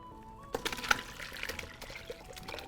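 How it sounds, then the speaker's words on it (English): Whey from strained cheese pours and trickles softly, splashing quietly and unevenly for a few seconds. "I'm gonna try to pour this without dumping it all over the counter."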